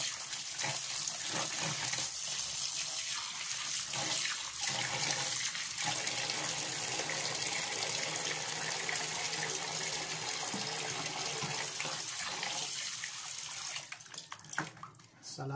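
Water runs steadily from a tap during the final washing of ingredients for shrimp paste from Taal Lake, Batangas, a loud continuous splashing rush that stays close throughout and fades only near the end.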